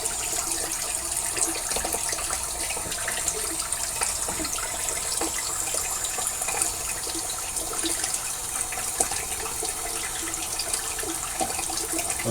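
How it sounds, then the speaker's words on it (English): Tap water runs into a sink while someone splashes it onto their face before shaving, a continuous close rushing and spattering with no talk. "Let me get some water on my face."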